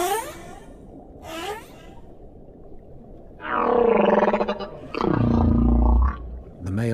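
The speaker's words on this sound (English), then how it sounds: "The male humpback may sing for hours or even days." A male humpback whale sings underwater: a few rising chirps and then two long, loud, moaning and wailing calls with a deep rumbling close, set against a steady watery hiss.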